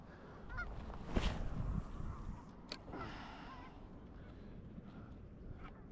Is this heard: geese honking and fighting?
yes